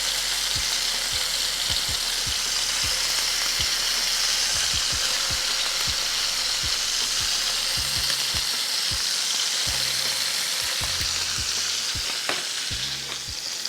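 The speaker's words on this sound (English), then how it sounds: "I like to sear my short ribs on all sides to really get some good color and texture." Beef short ribs sear in a skillet, four at a time, with a loud, steady sizzle throughout. Pops and crackles sound close by, and occasional soft knocks come from the pan.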